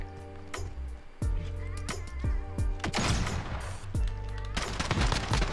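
Glock pistol fired from the hip in the Rust video game: a run of sharp, loud shots at an uneven rhythm, about eight cracks with dense bursts near the end, all close and up front.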